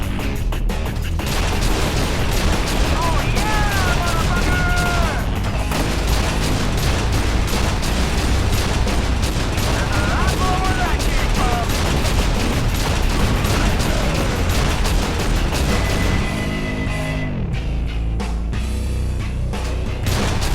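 Dense, continuous gunfire and explosions from a first-person shooter battle in F.E.A.R. 2: Project Origin, with rapid bursts and heavy booms layered over loud action music throughout.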